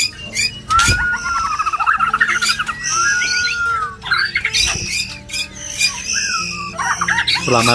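A white-rumped shama sings loud, varied phrases with rich whistles and chattering notes, close up in rapid succession with brief pauses between bursts.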